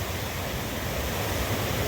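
A river swollen by heavy rain in St. Elizabeth, Jamaica, rushes past in a steady, dense, broadband roar of water, loud and unbroken throughout.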